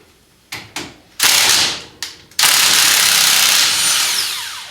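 An impact or power tool loosens brake caliper bolts on a 2015 Arctic Cat Sport ATV, giving two short bursts, then a longer whir, another brief burst, and a sustained run that tapers off.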